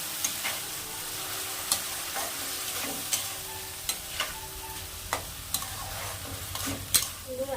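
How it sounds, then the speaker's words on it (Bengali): A spatula stirs spinach in a kadai with nigella seeds, giving sharp scraping taps every second or so over a low, steady sizzle. "আমি একটু কড়াইতে নেড়ে চেড়ে নিলাম, বেশিক্ষণ নাড়বো না।"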